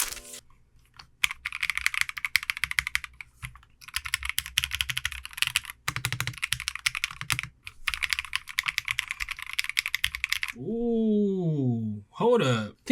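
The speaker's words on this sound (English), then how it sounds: "with this set of switches, it's not too bad. It's kind of low, it's kind of mellow. It's not too clacky, it's not too low pitch" Rapid continuous typing on a Trigon60 mechanical keyboard fitted with foam, a mellow, muted clatter in close bursts with short breaks, followed by someone speaking at the end.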